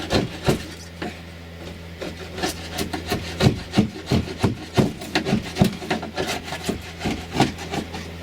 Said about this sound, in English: me just rip this cork out of here